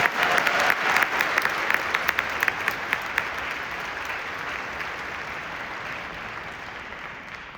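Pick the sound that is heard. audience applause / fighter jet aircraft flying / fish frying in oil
audience applause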